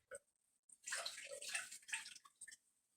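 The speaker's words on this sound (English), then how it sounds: "I'm going to give them a good swirl" Sprouting seeds and water swirl inside a lidded jar, a rushing, sloshing wash that runs for about two seconds after a short tap, then fades.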